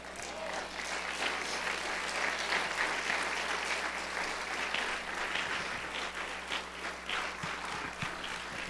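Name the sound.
audience applause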